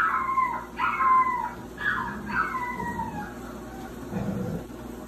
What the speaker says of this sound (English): is to see if you can get a dog to howl.